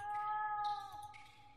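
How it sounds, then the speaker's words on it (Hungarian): A single drawn-out cat meow with clear harmonic tones comes from The Last Door video game. It is fairly quiet and alone, trailing off after about a second. "Valami vérmacskát? Zombi macska."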